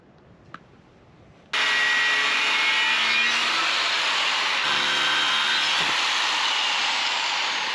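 A power tool cutting a steel piece for a tractor three-point rake, a loud steady grinding whine that starts abruptly after a quiet moment and runs on continuously to the end.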